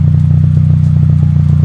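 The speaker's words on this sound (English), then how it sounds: "I actually like the way the exhaust sounds." Toyota Celica GTS four-cylinder engine with an open exhaust, idling with a loud, close, deep steady rumble and a fast, even pulsing beat, heard alone.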